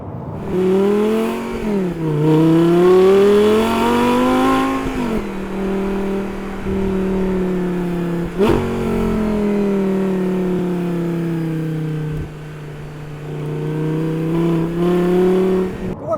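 Audi R8 V10 supercar engine revving loudly and close, its pitch climbing and falling through several rises, then settling into a steady drone with a brief blip near the middle.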